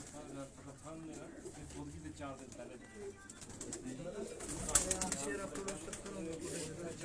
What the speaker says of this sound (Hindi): ये फकीरपुर कबूतर है उस्ताद जी।